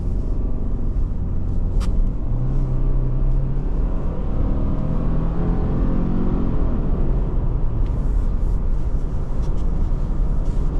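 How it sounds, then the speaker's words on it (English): Heard from inside a 2024 Subaru Crosstrek Wilderness on the road, a steady loud low rumble of tire and road noise with a constant engine drone and occasional faint ticks, no speech. "Tire noise, I was a little concerned about. Not really a problem here."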